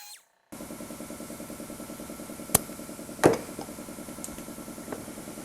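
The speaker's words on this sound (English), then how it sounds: "It's a Harbor Freight detail sander, and put a little 80 grit, and this does an orbital sand" An 80-grit Harbor Freight orbital detail sander works over a welded Scout 800 fender, giving a steady close buzz with fast rhythmic pulsing, interrupted at the start by a brief gap and marked later by a few sharp scraping clicks.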